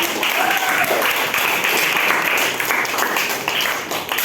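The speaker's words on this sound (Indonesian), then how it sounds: "Tepuk tangan dulu." A classroom full of students claps steadily, a dense, sustained round of applause lasting several seconds without pause.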